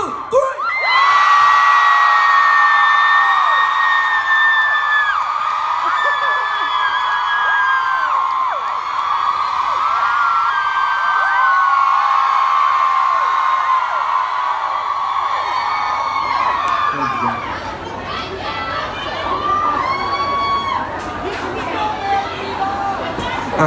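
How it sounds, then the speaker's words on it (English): Concert crowd in Boston screaming and cheering loudly on a count of three, a sustained wall of high-pitched shrieks and whoops that swells, dips slightly and carries on for over twenty seconds. "on count of three, scream as loud as you possibly can"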